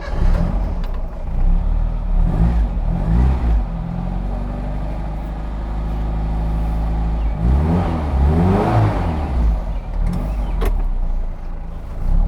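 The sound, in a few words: turbo Mini Cooper cafe racer engine driving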